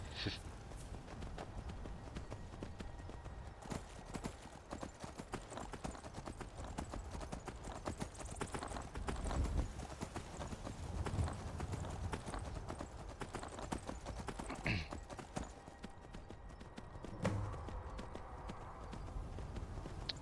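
A unicorn's hooves clip-clopping in a video game: a steady, continuous rhythm of fairly faint hoofbeats with light ambience throughout.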